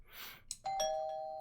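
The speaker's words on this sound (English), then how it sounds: "Suddenly the doorbell rings" A doorbell rings once in a quiet room, a clear electronic chime whose tone lingers and fades after a faint rustle beforehand.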